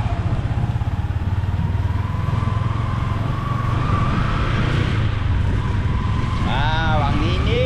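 A motorcycle engine idles with a steady, fast putter throughout, close and loud, while people talk nearby and a high voice chimes in near the end.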